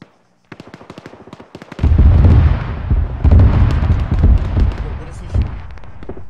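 Heavy artillery shells land in an Arma 3 co-op battle, a rapid run of sharp cracks giving way to a sustained rumbling barrage of loud booming impacts, with radio chatter and voices over the top.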